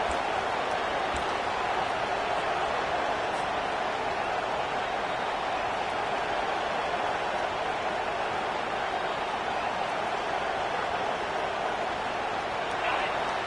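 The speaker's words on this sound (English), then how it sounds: "This crowd bringing the energy and noise early" A football stadium crowd at a Razorbacks game keeps up a steady, dense roar that stays even and unbroken throughout, like a wash of noise with no single voice standing out.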